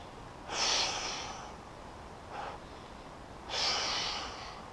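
Heavy breathing during a power yoga and Pilates core workout: two strong, close breaths, a softer shorter one between them, audible rushes of air in a slow rhythm with quiet room tone around them.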